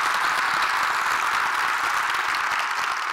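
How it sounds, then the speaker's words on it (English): Steady crowd applause fills a room at a heroes celebration event, a dense, even wash of many hands clapping throughout, fairly loud and continuous with no voices on top. "Give them a round of applause,"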